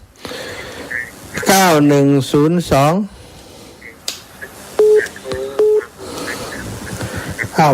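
Telephone keypad tones beep in short, evenly spaced presses during a Thai radio phone-in, mixed with talk on the line.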